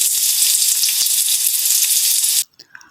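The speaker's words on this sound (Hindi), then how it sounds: "अदरक, लहसुन और सब्ज़ मिर्च का पेस्ट आपने इसमें डाल देना है और इसको तकरीबन 1 मिनट के लिए और फ्राई करेंगे" Ginger, garlic and green chili paste fries loudly in a pot for chicken yakhni pulao, a dense close sizzle with light stirring ticks that cuts off abruptly near the end.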